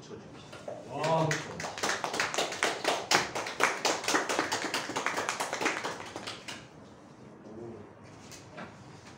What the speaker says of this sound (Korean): 박수 쳐줍시다.